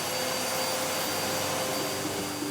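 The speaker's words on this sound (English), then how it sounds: "I need to vacuum my office" A vacuum cleaner running in an office, a steady loud motor whine and airflow roar with no change in pitch throughout.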